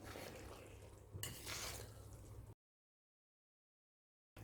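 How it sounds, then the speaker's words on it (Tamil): Cooked chicken rice is stirred gently with a thin ladle in a pan off the heat, producing quiet, continuous scraping and soft metal clinks for about two and a half seconds before the sound cuts to silence. "ஒரு மெலிசான கரண்டி எடுத்துகிட்டு நல்லா கலந்து விடணும்"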